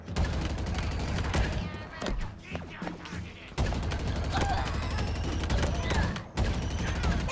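Heavy weapon fire in Halo Infinite, loud sustained bursts of rapid shots that break off briefly and resume, with game effects crackling between volleys.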